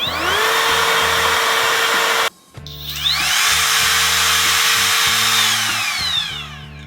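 A Worx WU560 20V brushless trim router with a soft start and variable speed from 10,000 to 30,000 RPM whines up steadily to a loud high pitch, cuts out briefly, then ramps up and runs again close by.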